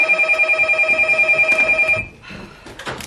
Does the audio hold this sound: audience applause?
no